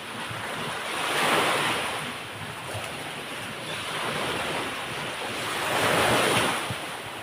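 Sea waves at high tide rolling onto a beach, a continuous broad roar of surf swelling and fading in slow surges, with wind buffeting the microphone.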